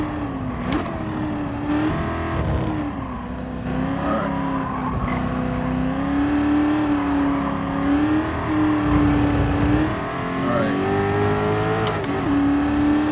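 A race car engine in Gran Turismo Sport drones steadily and loudly throughout, its pitch rising and falling with gear changes and throttle, along with occasional tire squeal.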